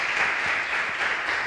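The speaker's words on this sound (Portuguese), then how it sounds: "vamos dar uma salva de palmas para essa noite tão abençoada" A short, even burst of applause from a church congregation at an evening gathering, dense continuous clapping at moderate loudness with nothing else heard.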